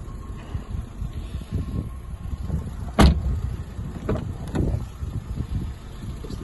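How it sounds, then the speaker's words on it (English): Front electric windows on a Ford Fiesta 1.2 Zetec five-door run with a low motor whir inside the car, marked by a sharp click or thump midway and a few lighter knocks after. "So you get your front electric windows, electric mirrors."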